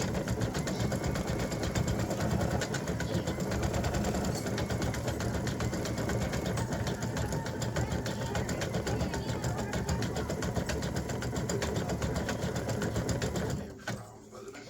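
An embroidery machine stitches a freestanding lace candy cane earring, running a steady, loud, rapid mechanical whirr that holds evenly throughout before cutting off abruptly near the end.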